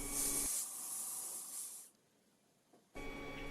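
An airbrush spraying paint onto an RC pilot figure bust, giving a steady close hiss of air and paint that drops away for about a second and then returns just as strong.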